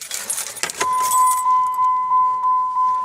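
A 2000 Plymouth Neon base sedan sounds its Chrysler key-in reminder chime as the key goes into the ignition: a clear, steady series of evenly spaced electronic dings following a brief jingle of keys.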